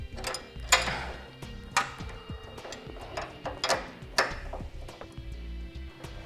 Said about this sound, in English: Take our quick link, snug it down, and we'll take our wrench.